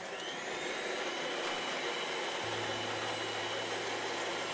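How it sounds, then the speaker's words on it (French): An electric mixer whirs steadily while whisking cream cheese frosting for a red velvet roll, a continuous motor drone that shifts to a lower, steadier hum partway through, no talking. "Et continuez à fouetter encore pour quelques minutes."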